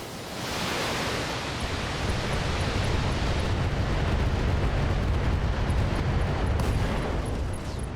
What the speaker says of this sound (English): Let's move to shape charges.